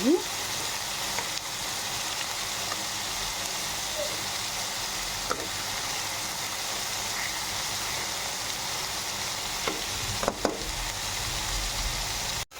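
Native ridge gourd fries in a pan with a steady, close sizzling hiss, broken now and then by a few soft stirring scrapes.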